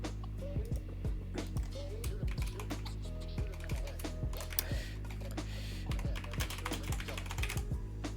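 Computer keyboard typing while writing a Discord message: brisk, uneven clusters of close, crisp keystrokes that keep going throughout, with no one talking.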